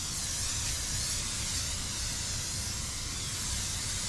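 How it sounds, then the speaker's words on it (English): An aerosol can of Pam cooking spray releases one continuous, loud, close hiss that lasts about four seconds without a break. "I'm just going to use some Pam cooking spray and"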